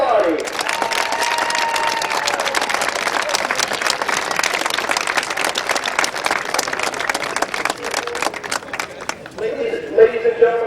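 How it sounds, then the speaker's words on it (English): Crowd applause rings out at a Midvale Speedway Hall of Fame induction, a dense, steady wash of clapping that lasts about ten seconds, with an announcer's voice over it, then thins out near the end. "one more huge round of applause"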